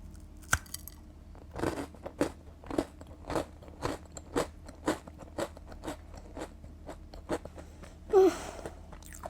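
A crispy vanilla protein scone, crunchy outside and slightly chewy inside, crackles with close, loud bites and chewing crunches repeating about twice a second, with no talk.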